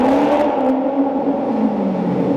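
Loud, sustained engine note from a V8 sports car in a tunnel, with a steady mid-pitched drone and slowly rising and falling harmonics, heard close by with no talk.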